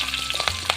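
Fenugreek seeds and chilies fry in hot oil in a pan, a close, steady sizzle with small crackling pops and a brief stirring scrape, and no voices.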